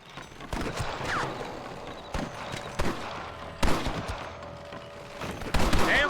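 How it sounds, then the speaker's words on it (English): Gunfights in the Western video game Red Dead Redemption on PS5: scattered sharp gunshots in irregular bursts, several close and loud, with clattering horse hooves and mechanical clicks between them. "Damn fine shooting, boys."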